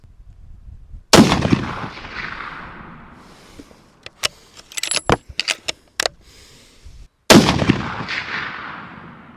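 Two loud, sharp rifle shots from a CVA Cascade Long Range Hunter in 7mm Rem Mag, fired off a bag outdoors, each with a long rolling echo, separated by clicks and clatter of working the bolt.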